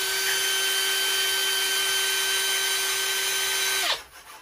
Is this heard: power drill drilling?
yes